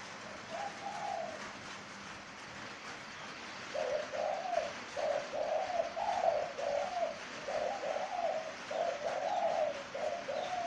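A spotted dove, moulting out of season, gives a series of soft repeated coos in steady phrases over a low background hum, the calls growing more regular after a brief pause.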